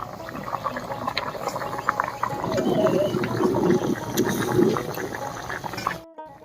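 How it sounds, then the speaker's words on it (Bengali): Water with potol (pointed gourd) bubbling and simmering in a cooking pot in a village-style outdoor kitchen, a steady close boiling burble with small pops, and a brief bit of background noise before it cuts off abruptly. "বলক উঠে গেছে, এবার ভাজা মাছগুলো দিয়ে দিব।"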